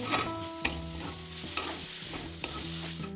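Coconut filling being stirred in a pan with sugar and date jaggery, a steady scraping stir with a few sharp utensil knocks against the pan, close and continuous under a faint background hum.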